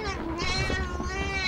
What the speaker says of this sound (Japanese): 猫が攻めてきた